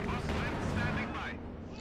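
Artillery fire in the Company of Heroes 2 war game rolls out as a dense, heavy boom with crackling rumble that fades over under two seconds, with a voice talking over it.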